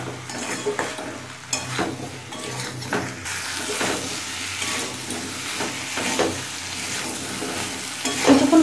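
Cubes of elephant foot yam sautéed with salt in a pan, a continuous close sizzle overlaid by repeated scraping and clattering strokes of a spatula against the metal.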